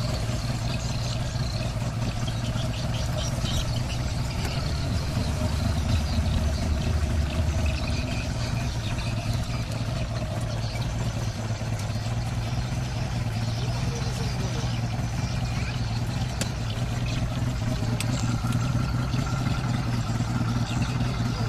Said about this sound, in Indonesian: speedboatnya sudah melambat dan ternyata kita sudah tiba di kota Buntok